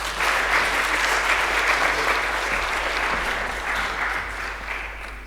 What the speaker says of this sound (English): Give Constantine a round of applause.